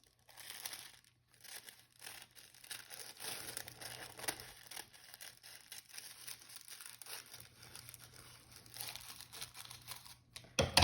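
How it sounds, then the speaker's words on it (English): Quiet, close-up snipping and crinkling of paper being cut with scissors, in irregular bursts with no talking. "you can take your scissors and you can just cut it like this"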